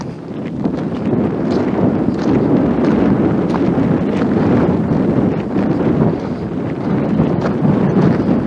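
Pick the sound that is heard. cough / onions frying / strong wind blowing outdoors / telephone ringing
strong wind blowing outdoors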